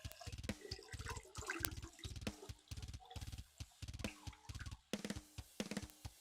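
Water is poured into a jar to make brine for fermented hot sauce, giving a faint, rhythmic glugging with repeated pulses close by and no talking.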